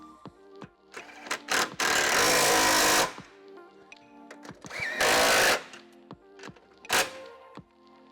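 A power tool with a 12mm socket drives nuts onto shock mounts during a Koni suspension install on an NA Miata. It gives two loud bursts of whirring, with short clicks and taps around them.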